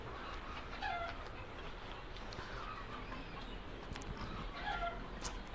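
Chickens cluck softly in a coop amid steady low background noise, with a few brief bird calls rising now and then and no talking.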